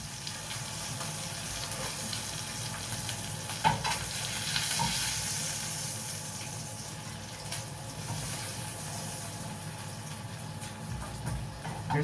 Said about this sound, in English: Now we're going to transfer the beef over.